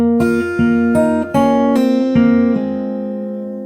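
Fingerstyle acoustic guitar plays the opening of a song verse: about six plucked notes and chords at a steady, moderate pace, each ringing and overlapping, played close and clear with no voice.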